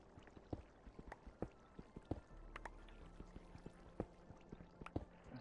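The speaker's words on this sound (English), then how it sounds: "I hear a lot of water. I think it's below me." In Minecraft, flowing water somewhere below the player comes through as quiet, irregular pouring and dripping splashes, scattered through the stretch at a distance with no talking.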